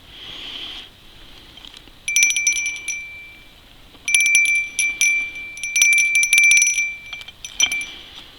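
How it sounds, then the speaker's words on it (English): A bicycle bell rings in bursts of rapid metallic dings, fairly close and loud, with quiet gaps between the ringing spells. "The bell still works."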